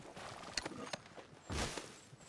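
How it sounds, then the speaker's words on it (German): A horse's hooves approach in Red Dead Redemption 2, a few soft scattered thuds with a firmer clop near the end, faint and close. "So, da kommt mein Pferd"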